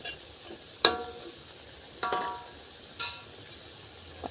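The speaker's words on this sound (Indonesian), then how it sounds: "Tak goreng tempe." Tempeh frying in a pan gives a low background sizzle, broken by three or four sharp clinks of stirring.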